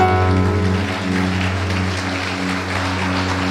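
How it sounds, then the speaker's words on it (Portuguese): A church congregation applauds during a sermon, a dense, rain-like crackle of many hands that holds steady over a low sustained musical drone from instruments, with no voices. "Pode aplaudi-lo."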